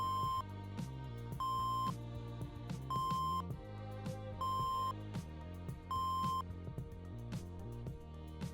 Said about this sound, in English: that beeping you hear is just letting you know that the system is fully booted up and ready to go